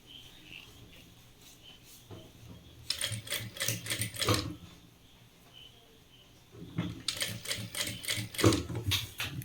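A sewing machine stitches along the edge of fabric while fitting a nursing zip, with two bursts of rapid mechanical clatter separated by a quieter pause, close and fairly loud with no talking.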